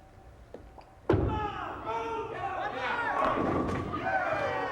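A bowling ball strikes the pins in the 10th frame of a 1988 PBA Kessler Classic championship match, a sharp loud crash followed by scattering pin clatter and rising crowd noise.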